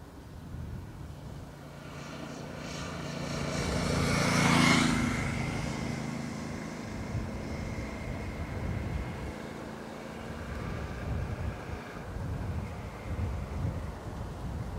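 ATR turboprop airliner from the Isle of Man on approach to Dublin Airport runway 28L, a distant drone swelling to a peak midway then easing off, mixed with wind noise.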